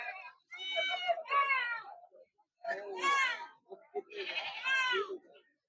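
Osmanabadi goats bleat at the crowded Shirur goat and sheep market, several loud, wavering calls in quick succession from close by, separated by brief pauses.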